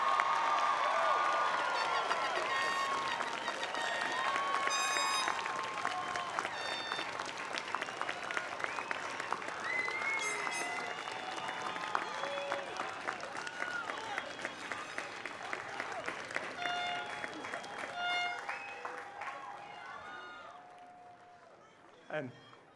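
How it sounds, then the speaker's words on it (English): Newly graduated students at Fairfield University's 2022 commencement ceremony rise and applaud, with a broad wave of clapping and scattered cheers that stays loud before gradually fading out near the end. "can all of our new graduates please rise and acknowledge with applause"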